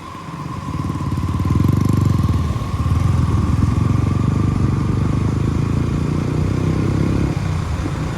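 Motorcycles, including KTM Duke, KTM RC, Yamaha MT15 and R15 bikes, ride along a highway, a loud, steady engine drone with wind rush and a brief swell in revs near the start, continuous and close.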